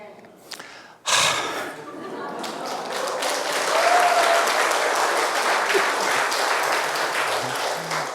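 A church congregation bursts into applause after a brief pause, steady crowd clapping with some murmuring voices mixed in, continuing to the end.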